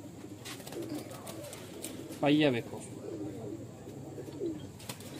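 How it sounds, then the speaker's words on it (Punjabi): A breeder pigeon gives one clear, close coo partway through, amid softer bird sounds, while someone talks nearby. "ਮਾਸ਼ਾਅੱਲਾ ਕਮਾਲ ਦਾ ਕਬੂਤਰ ਹੈ"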